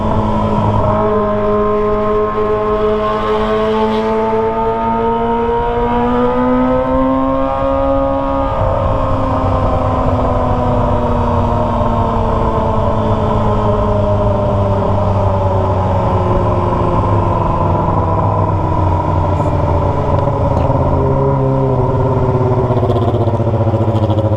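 A Kawasaki ZX25R fitted with a Toce aftermarket exhaust screams close by as it climbs through high revs, shifts, then settles into a steady, droning cruise at night.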